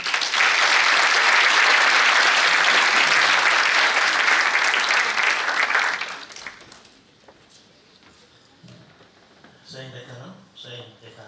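Dense, loud applause from an audience welcoming a professor to the lectern fills the first six seconds, then drops to a quiet room with a few faint sounds and a short voice near the end.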